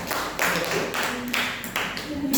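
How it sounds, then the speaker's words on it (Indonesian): Group applause from an audience at an Indonesian teachers' session, a steady wash of many hands clapping in bursts across the whole moment, with voices murmuring underneath. "Kita beri tepuk tangan untuk kita semuanya"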